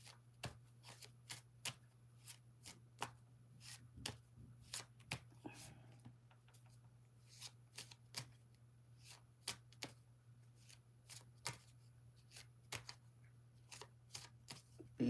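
Angel oracle cards being handled and shuffled for a tarot reading, a steady run of sharp, close card snaps and riffles over a constant low hum, with no talking.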